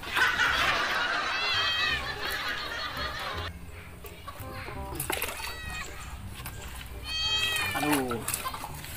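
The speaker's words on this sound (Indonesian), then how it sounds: "Ih, kucing." A cat meows in short, repeated calls, some fairly close and clear, mixed with people talking and laughing nearby.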